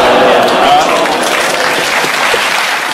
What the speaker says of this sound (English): You send a mixed message when you groan and then clap